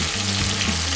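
Chicken fries over high heat in a pan with a dense, loud, continuous sizzle and steady spatter, close up and free of voices.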